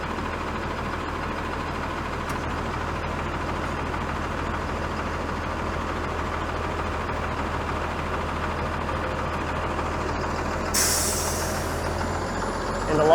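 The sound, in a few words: city bus with air brakes, 32 Eglinton West bus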